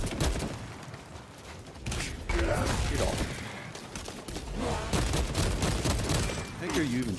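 Warhammer 40k Space Marine 2 battle gunfire, dense repeated bursts and impacts rolling through the clip, loud and close, with occasional speech among the clatter.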